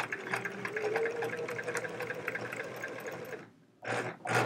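A home sewing machine stitches a hedgehog quilt with very short stitches, giving a steady close whir for about three and a half seconds, a brief stop, then two short bursts of running.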